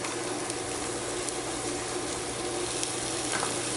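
Carrots, celery and onions frying in hot oil in a pot, a loud, steady, dense sizzle that keeps going without a break, heard close up.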